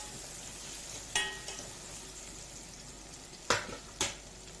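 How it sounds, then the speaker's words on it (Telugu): Okra and fish curry frying lightly in oil in a pan, a steady hiss of sizzling broken by three sharp scrapes of stirring. "లైట్ ఫ్రై చేసేసి ఒకసారి కలిపేసుకుందాం"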